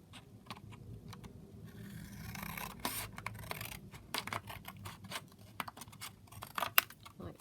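Scissors cutting and trimming brown paper at a desk, a series of irregular close snips and crisp paper rustles, with scattered sharper clicks toward the end.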